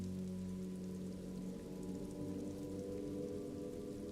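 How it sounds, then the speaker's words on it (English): Steady rain falls in the video game Disco Elysium, a dense, even patter on surfaces that continues unbroken at moderate volume with no voices. "Rain falls down on the world."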